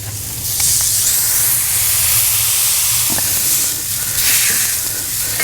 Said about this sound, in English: We're going to set it right on the griddle and then smash it. Just smash it right into a flat patty.